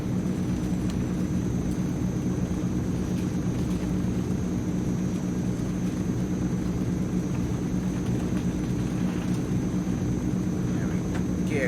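Propeller engines of a Transall C-160 military transport run at full takeoff power in Microsoft Flight Simulator, a steady, loud, continuous drone with a strong low hum that holds unchanged throughout.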